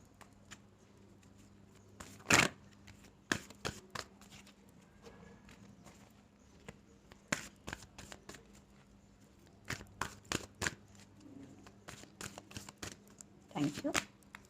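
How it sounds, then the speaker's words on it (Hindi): Tarot cards being shuffled and flipped in short, sharp bursts of crisp card snaps and riffles spaced across the clip, close and fairly faint, with soft handling noise between. "सॉरी, कार्ड्स फ्लिप हो रही हैं।"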